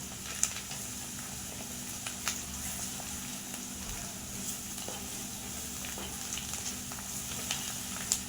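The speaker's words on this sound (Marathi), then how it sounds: "आपला मसाला सगळा परतून झालाय बघा." Masala sautéing in a pan for bottle gourd sambar gives a soft, steady sizzle with occasional faint clicks of stirring, fairly quiet and continuous throughout.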